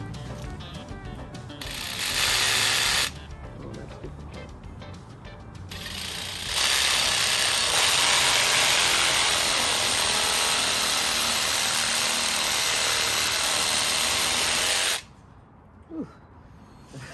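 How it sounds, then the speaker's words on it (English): A power tool cuts PVC pipe to length in bursts: a loud whirring cut starts, stops briefly, then a long sustained run of about eight seconds follows before cutting out into quiet. "Now we're cutting all the PVC to length"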